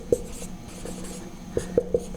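A black marker squeaks on a board in a thermodynamics lecture, a single short stroke followed by a quick cluster of three squeaky taps, all faint under room hum.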